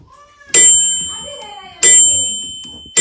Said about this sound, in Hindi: जितना टाइमर हम लगाते हैं उसके बाद ये घंटी बज जाती है इस तरीके से